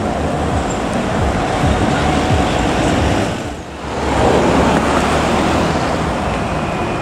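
A Sembodo intercity bus passes through a rest area amid steady road traffic noise, its broadband rumble swelling and dipping briefly as it goes by at moderate distance.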